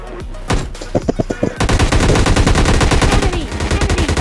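Gunfire in the mobile battle royale game BGMI, a few spaced single shots followed by a loud, rapid automatic burst that keeps rattling steadily to the end.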